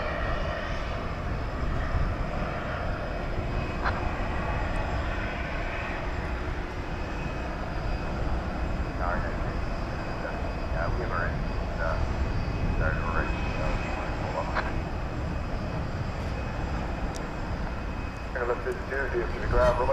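An airliner at DFW Airport seen during nighttime plane spotting, its engines giving a continuous, loud, broad roar throughout, with a voice talking intermittently over the noise.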